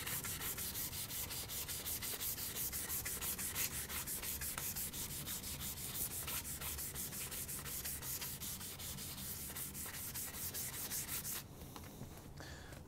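A steel card scraper is rubbed back and forth on slightly clogged 1000-grit sandpaper, a steady, continuous close scratching that fades near the end, with no talking.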